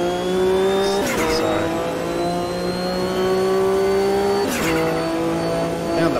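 Race car in the sim game Automobilista 2 at a sportscar championship race, engine droning steadily at high revs with sharp shifts and a couple of abrupt impacts as it hits the wall, loud and continuous.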